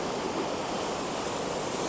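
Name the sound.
waterfall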